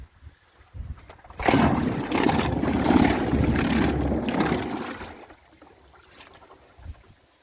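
A Minn Kota Endura 50 electric trolling motor runs in water, a steady whirring churn for several seconds, louder in the middle, then drops away to quieter splashing.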